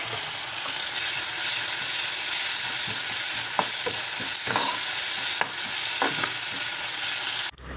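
Tomato sizzles in a hot frying pan during preparation of a Kerala-style fried seer fish chilli curry, a steady loud frying hiss with scattered stirring clicks and pops, no voices.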